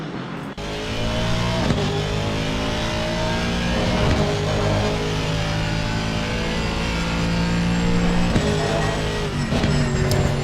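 In-car engine of an Aston Martin race car lapping the Circuit of the Americas in Assetto Corsa Competizione, a loud sustained roar with rising revs and a few sharp gear-shift dips, continuous and alone.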